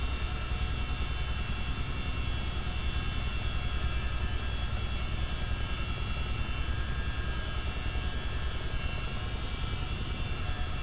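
A helicopter hovering while dropping an underslung load gives off a steady, loud rotor and engine drone that holds unchanged throughout, with no voices.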